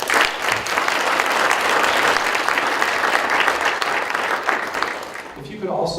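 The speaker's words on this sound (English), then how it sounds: "how about a big round of applause to welcome Rich Smith" An audience gives a big round of applause to welcome a speaker at a district meeting, dense sustained clapping from many people for several seconds before it thins out at the end.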